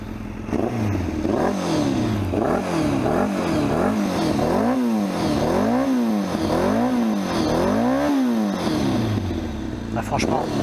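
Late-2000 Kawasaki ZZR 1100 four-cylinder motorcycle revving hard through its exhaust, a series of rising and falling throttle blips in a regular rhythm, loud and close, with a sharp crackle near the end.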